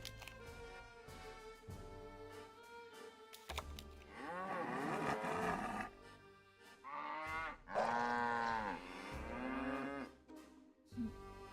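Cows mooing in the Nancy Drew game Captive Curse: two long, loud, drawn-out moos in the middle, with quieter lowing and ambient game sounds around them.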